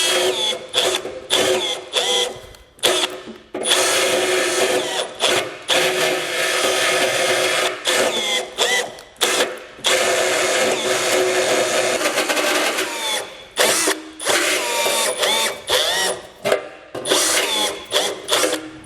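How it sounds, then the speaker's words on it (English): A die grinder bit enlarging a hole for a 1/2-inch bolt while fitting a base plate to a 2015 Ford Explorer: loud, close whirring grinding in repeated bursts with short pauses between passes. "So I'm going to use a die grinder bit to open it up."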